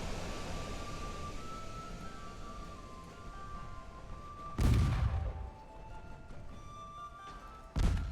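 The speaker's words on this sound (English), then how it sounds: "Have them shoot at the light cruiser." Warship guns firing in the Ultimate Admiral Dreadnoughts naval game: two heavy booming salvos, some seconds apart, over a steady rumbling background noise with no talk.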